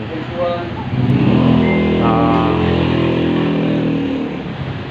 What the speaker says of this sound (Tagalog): Maingay yung makina.